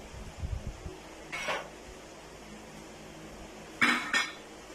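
Metal pots and utensils clink and scrape as mutton is shifted into a karahi for mutton karahi, with a few low knocks early on and two sharp clattering bursts near the end over a quiet kitchen background.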